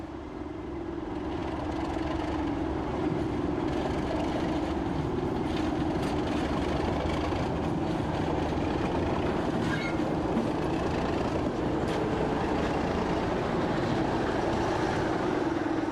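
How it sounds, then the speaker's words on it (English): A British Rail Class 37 diesel locomotive arriving with a train, its deep engine growl rising in and holding steady as a loud, close rumble, with rail noise beneath. "The second train arrives, with the 37's characteristic growl."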